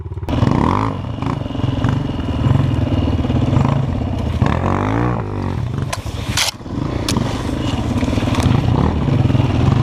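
An enduro motorcycle engine drones and revs loudly and close up while riding a rough, overgrown off-road trail, with clattering and scraping from the terrain and short throttle surges.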